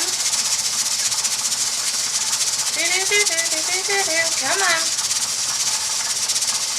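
Pressure canner with its weight gently rocking while canning corn, a steady bright hiss of escaping steam throughout, with a short spoken phrase in the middle.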